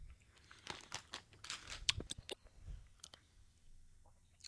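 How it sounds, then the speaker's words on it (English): Organic chocolate chips being munched close up, a series of crisp crunches and crinkly bites in an irregular rhythm, fairly quiet with no talking. "I'm snacking on some organic chocolate chips"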